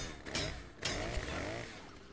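A loud, continuous chainsaw roar in the Lego Movie 2 video game, with a couple of sharp revs, buzzing steadily without pause.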